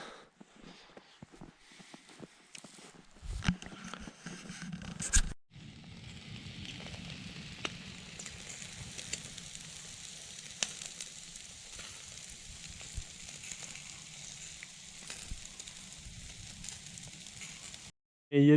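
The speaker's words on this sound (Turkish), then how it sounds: "Biraz tavuklar soğumuştu. Ateşin üstüne koydum tekrardan." Soft sizzling and crackling of chicken reheating over an open campfire, steady and close, with a few louder knocks and bumps early on.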